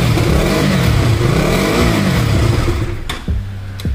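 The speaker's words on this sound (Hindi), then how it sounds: "बाइक की साउंड एकदम बढ़िया है।" A used KTM sports motorcycle engine revs up and down loudly close by, rising and falling in pitch, then settles to a rough idle with a couple of sharp clicks.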